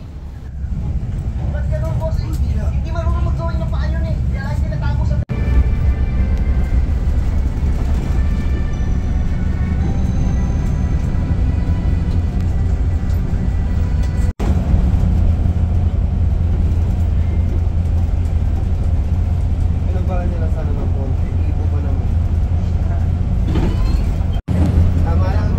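Philippine Rabbit Higer bus entering the NLEX expressway, heard from inside as a loud steady engine drone and road rumble throughout, with a few brief clicks.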